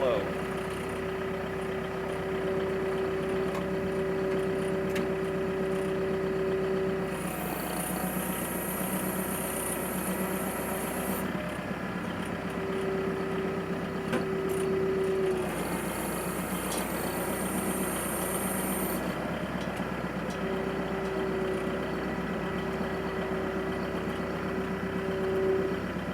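A vehicle engine runs steadily in low gear on a sheep farm, a constant mid-range drone with a steady tonal hum and intermittent high whines, continuing throughout.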